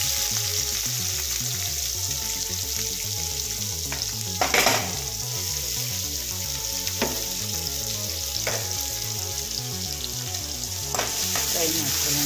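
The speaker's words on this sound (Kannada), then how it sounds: "ಈಗ ಫ್ರೈ ಆಗ್ತಾ ಇದೆ, ನೋಡ್ಕೊಳ್ಳಿ. ಇವಾಗ ಈರುಳ್ಳಿ ಹಾಕೋಣ." Cashews and onions fry in oil in a pan, a dense, constant sizzle heard up close, broken by a few brief stirring scrapes, with rhythmic background music underneath.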